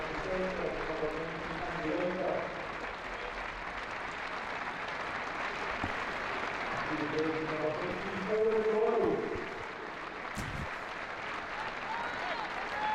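Football supporters at a Hamilton versus Alloa league match applauding a substituted player leaving the pitch, a broad, distant wash of clapping from the stands with a commentator talking over it.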